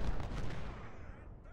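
Sniper gunfire in the Civil War strategy video game Ultimate General: Civil War: a short burst of muffled, booming shots at the start that rolls off into a fading rumble, fairly quiet overall.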